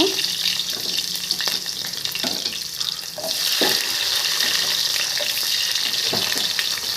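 Onions and cumin fry in oil for a thorny nightshade gravy, giving a loud, steady sizzle up close with occasional clinks and scrapes of stirring, and no one talking.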